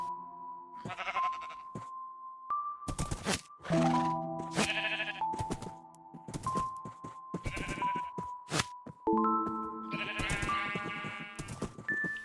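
Sheep in a farm video game bleat repeatedly, with several overlapping calls of varying pitch in close succession and short gaps between them.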